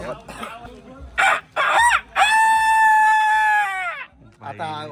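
A voice imitates a rooster's crow during a Shimga festival in Guhagar, a few short clucking bursts leading into one long, loud drawn-out cock-a-doodle-doo, then another brief call.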